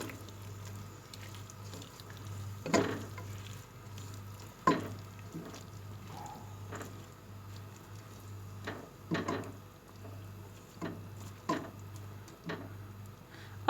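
Tomatoes and keema being stirred in a cooking pot, soft sizzling under repeated spoon scrapes and taps against the pot at irregular intervals, quiet and close, with a steady low hum beneath.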